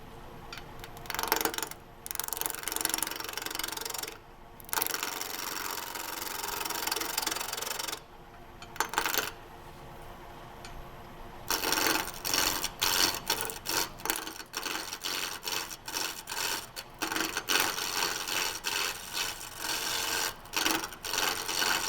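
Bowl gouge cutting a spinning vase blank on a wood lathe, a steady loud rasping scrape in long continuous passes broken by a few brief pauses, with no talking.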